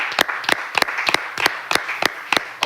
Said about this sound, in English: Let's clap it up for Bronny, everybody.